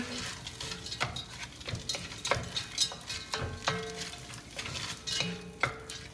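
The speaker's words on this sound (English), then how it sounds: "And you just stir." Frozen peas being stirred into already cooked fried rice in a hot pan, with a steady utensil scraping and clicking rhythm over a soft sizzle, close and moderately quiet.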